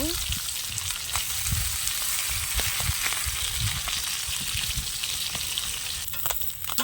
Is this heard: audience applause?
no